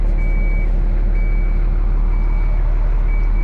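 A running trackhoe throws a warning alarm, a repeating high electronic beep in even pulses over the loud, steady low drone of its diesel engine.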